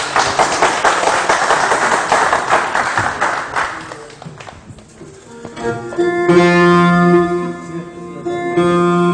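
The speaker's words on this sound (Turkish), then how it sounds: "Arkadaşlar İbrahim Akgül abime bir alkış yok mu?" Audience applause at a Turkish gathering, a burst of clapping in the first half that fades out before music with sustained tones takes over.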